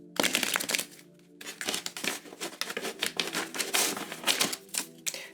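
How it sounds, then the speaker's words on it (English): A deck of tarot cards being shuffled by hand, giving rapid papery riffles and crisp flicking clicks in uneven bursts, close and fairly quiet, with a brief pause near the start. "excuse me if my shuffling isn't so good"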